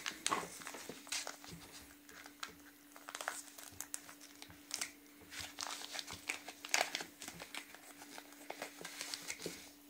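Crinkling and tearing of a package of garden var, a grafting wax for tree and vine wounds, made in Ukraine, as it is opened close by; irregular crackly rustles run throughout, with a steady low hum underneath and no talk.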